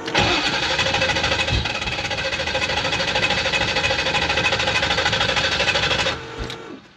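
A turbocharged Mustang with a C4 transmission, 80mm BG turbo and a smaller converter bell cranks on its starter with a fast, even, high whir. It spins steadily for about six seconds, close and loud, then winds down and stops.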